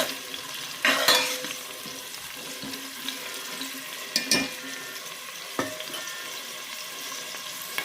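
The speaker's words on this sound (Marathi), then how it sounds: "आता हे मी चांगलं परतून घेते आणि टोमॅटो मी चांगला शिजून घेते" Tomato being stirred and fried in a pan while cooking a mutton dish, with a soft steady sizzle beneath a few sharp spoon scrapes and clatters against the pan, close by and with no talking.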